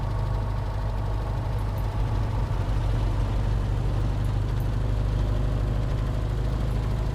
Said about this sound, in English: So we got the left engine started